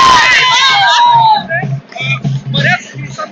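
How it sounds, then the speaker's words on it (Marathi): Women celebrate outside a municipal corporation office in Kolhapur with shrill cheers and whoops up close, giving way to a nearby voice talking over the lively crowd. "इथं महिलांचा जो जल्लोष आहे ते आपण पाहू शकतोय"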